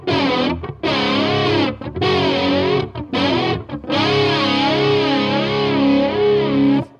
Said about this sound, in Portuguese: Agora o flanger depois.